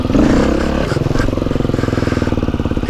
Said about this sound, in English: if you throttle through it, you're going to do a perfectly graceful hop